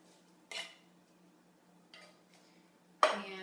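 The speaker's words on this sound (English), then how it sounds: "So then we'll add corn, a couple cans of corn" Canned corn goes into a slow cooker with a few clinks and scrapes of metal on the pot, sparse and close, ending in a louder clatter.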